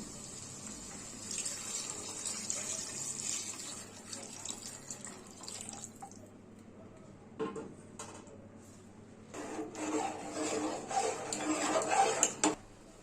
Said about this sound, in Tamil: இப்போ நம்ம ஆல்ரெடி மட்டனை வேக வச்சிருந்த தண்ணியை ஊற்றிக்கிடுவோம்